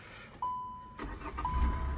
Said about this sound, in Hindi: ये गाड़ी हमारी स्टार्ट हो गई है।